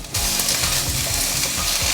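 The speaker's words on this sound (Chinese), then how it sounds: "先把蔬菜炒成半熟的状态" Red and green vegetables stir-frying in hot oil, giving a dense, loud, continuous sizzle heard up close with no talk.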